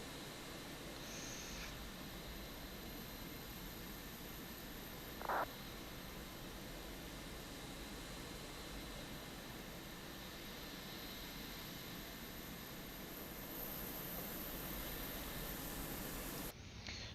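An airliner's auxiliary power unit runs in Microsoft Flight Simulator 2020, a steady, even jet-like whine and hiss that holds constant without any break, heard alone.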